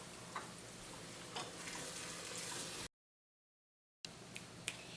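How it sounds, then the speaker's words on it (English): Mutton biryani ingredients with turmeric sizzle softly as they are stirred in a pan. Faint crackling with a few light clicks of a spoon, cut by a short stretch of silence partway through. "And now we're going to stir it all up."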